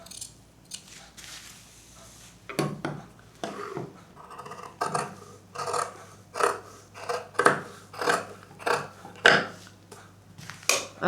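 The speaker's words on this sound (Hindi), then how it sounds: "किनारे किनारे कट करना है।" Scissors cut fabric along the stitched edge of a handmade purse, making a steady run of close, crisp snips that grow regular and slightly quicker as the blade works along the seam.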